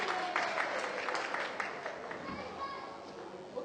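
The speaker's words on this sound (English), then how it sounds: "Give a round of applause" Applause from an audience at a children's show, likely kids among them, a dense steady patter of clapping heard close and fairly loud for a few seconds without a clear break.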